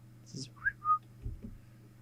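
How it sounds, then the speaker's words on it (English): Brief whistled notes, a few short rising and level tones, over a low background hum. "I can't do it without whistling."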